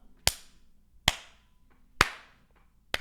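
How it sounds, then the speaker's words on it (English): One person gives a slow clap: four sharp, isolated hand claps spaced almost a second apart in a quiet room, each followed by a short ringing decay. "Slow clap."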